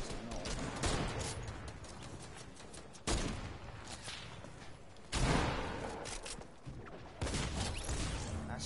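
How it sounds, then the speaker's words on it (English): Heavy sniper rifle fire in a Fortnite match, with loud booming shots every two seconds or so, each followed by a long rumbling tail, over steady game background noise. "We have a heavy sniper that someone's actually trying to snipe."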